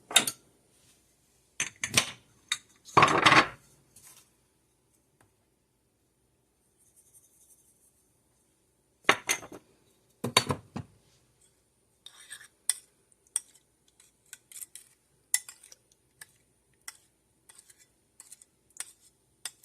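A utensil scrapes and clinks against a bowl while rib sauce is mixed with sugar, coming in short close bursts of stirring separated by quiet pauses and lighter taps.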